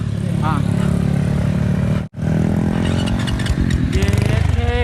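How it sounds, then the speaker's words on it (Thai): A motorcycle engine revs loudly and close by, pulsing and rising in pitch, while people talk over it. "โอ้ยผมชอบเลยเสียงเครื่อง"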